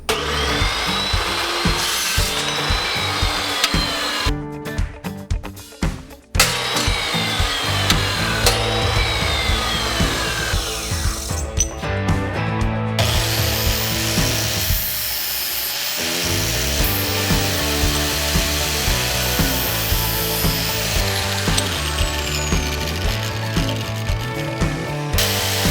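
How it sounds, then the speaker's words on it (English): A power tool cuts steel plates for a car hauler trailer frame, producing a loud, continuous grinding and rasping whine with a few brief breaks and shifting pitch as the cut goes on. "I'm going to cut out 3 more of those plates and clean up all the edges."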